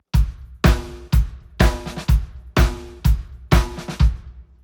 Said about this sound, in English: So it has those doubles on the snare that you can put in.